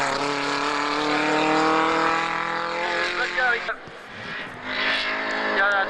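Simca 1100 race car at a hill-climb competition, a loud engine note that holds, then shifts and surges again as the car drives past, with talk over part of it.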